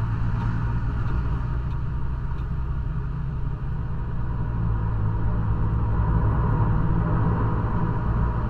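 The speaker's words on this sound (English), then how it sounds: "the sound of trucks passing you, that's improved immeasurably" Steady low engine rumble of heavy trucks rolling past a coach in a driving simulator game, a continuous droning roar with road noise, loud and close, with no talking.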